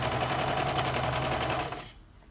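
A serger sewing machine stitches over encased elastic in a loud, rapid, steady mechanical hum and chatter that winds down and stops near the end.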